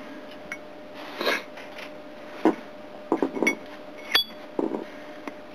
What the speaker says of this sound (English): Hear that very loud clink.